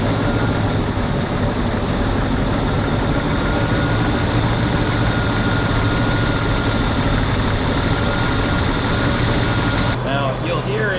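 A Jeep CJ engine idles steadily and slightly rough, with a continuous low rumble that holds close and loud and then drops away abruptly near the end.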